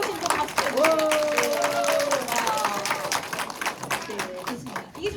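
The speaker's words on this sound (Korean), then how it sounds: "가족이 함께 오신 분 박수" Seminar audience clapping for families in attendance, mixed with a loud voice talking over it, the applause swelling then thinning toward the end.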